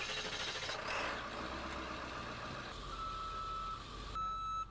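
An emergency response vehicle reverses with its engine idling, and a faint steady backup beeper sounds over the low rumble for several seconds.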